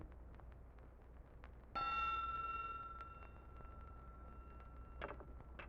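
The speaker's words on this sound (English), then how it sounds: "I'll ring the magic bell that brings him from his enchantment" In an old radio drama, a single magic bell is struck once and rings on, its bright tone fading slowly over several seconds. Faint clinks come before and after, with no voices.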